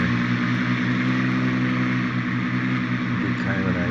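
Albatros D.Va biplane in a flight simulator, a steady droning propeller engine hum coming around for landing, with someone talking over it.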